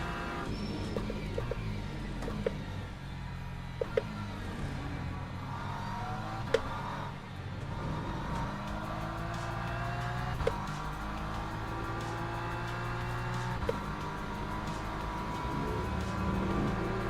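A hypercar's racing engine in the Le Mans Ultimate sim drones and shifts steadily, pitch rising and falling through gear changes with occasional sharp clicks, continuous and moderately loud.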